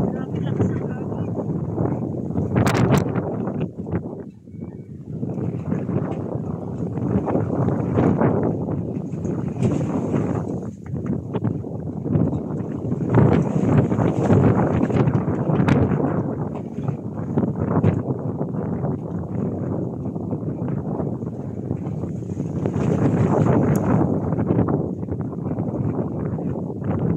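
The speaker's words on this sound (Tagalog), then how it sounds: "Grabe lakas ng hangin." Strong wind buffets outside a home in loud, rough gusts that swell and ease over nearly half a minute, with a person talking intermittently beneath the roar.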